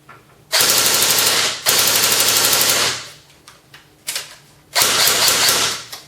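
A CYMA M14 airsoft rifle fires on full auto in three loud, rapid bursts of about a second each, the buzzing rattle of shots separated by short pauses with a few quieter clicks between.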